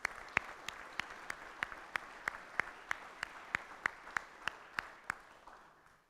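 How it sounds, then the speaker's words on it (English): At a Rotary club meeting honouring committee chairs, a few hands clap in a steady, evenly spaced rhythm. The claps are sharp, distinct and modest in volume, then fade out. "Let's give them a round of applause."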